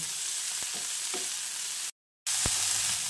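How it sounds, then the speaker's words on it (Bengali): Vegetables lightly frying in a pan give a steady, close hiss of sizzling oil, with a few soft stirring scrapes and a short break of silence partway through. "এবার হালকা করে ভেজে নেব।"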